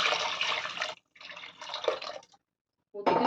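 Tamarind water mixed with chili and turmeric is poured into a village fish curry over sautéed onions and tomatoes, a close, splashing pour in two bursts separated by short pauses.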